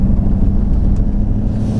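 A Ford 6.7 Powerstroke truck engine pulls in 3rd gear after a downshift at around 1,600 RPM, a loud, steady low diesel rumble heard from inside the cab with no voices.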